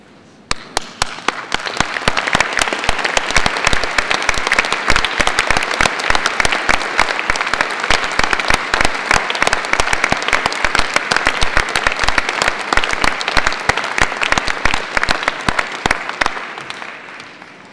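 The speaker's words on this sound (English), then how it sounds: "join me in giving them a well-deserved round of applause" A standing crowd at a Birmingham City University graduation ceremony applauds loudly, a few claps first and then dense, vigorous clapping with sharp individual hand strikes, sustained for about fifteen seconds before fading.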